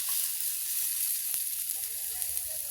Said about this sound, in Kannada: ಈಗ ಕರಿಬೇವು ಕೊತ್ತಂಬರಿ ಟೊಮೊಟೊ ಈರುಳ್ಳಿ ಫ್ರೈ ಆಗಿದೆ